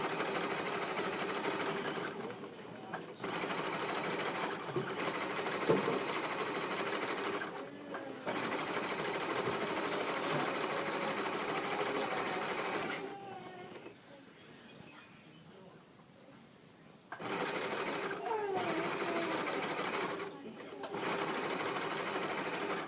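Sewing machine stitching around a wool soaker, running in long steady bursts with brief pauses and a quieter stretch in the middle, close and fairly loud.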